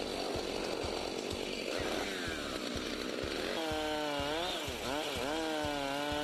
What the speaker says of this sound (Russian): здесь водоканал, пилит лед для того, чтобы делать ледовые городки к Новому году.